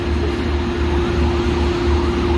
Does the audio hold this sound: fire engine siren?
yes